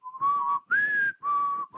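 A person whistles three sustained clear notes, the middle one pitched a little higher, each separated by a short gap, close and alone without talk.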